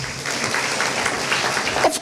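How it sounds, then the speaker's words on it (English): Dense applause from a crowd at a 2023 School of Communications graduation reception, a steady, unbroken clatter of many hands clapping for the full two seconds. "Of course, I like this applause"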